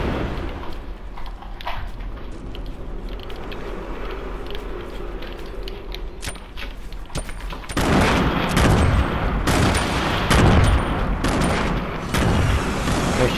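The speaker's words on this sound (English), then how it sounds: "They're shooting RPGs and grenades at me." Rocket and grenade fire in Fortnite: a dense barrage of explosions and rapid gunfire, moderate at first, then growing markedly louder and more intense halfway through with heavy booms, continuous and close, with no talk.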